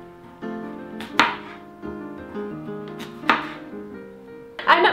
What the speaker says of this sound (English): we're just going to basically just chop these into halves and then quarters